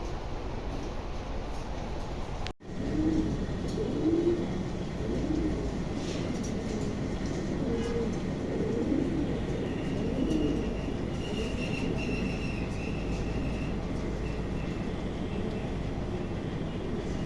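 A pair of pigeons coo softly in repeated low, throaty phrases over a steady background hum, close but quiet, with no speech.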